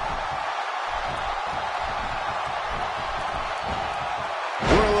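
Arena crowd noise from the wrestling video game WWE 2K16, a steady broad roar of cheering fans that holds at a constant level throughout, with a sharper swell near the end.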